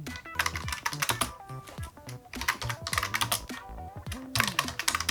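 Close, rapid typing on a computer keyboard while a date and comment are entered in a save dialog of font design software, with dense bursts of key clicks and short pauses between words.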